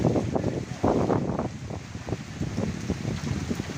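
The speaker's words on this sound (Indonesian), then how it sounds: "Kena puting beliung." Strong whirlwind gusts hitting an outdoor bonsai exhibition, a continuous loud roaring rush of wind noise buffeting the microphone throughout, with no talk.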